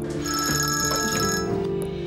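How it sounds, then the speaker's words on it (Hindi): A telephone rings with a bright electronic ringtone, steady and close, continuing for about two seconds with no voices. "अम्मी का फोन आ रहा है"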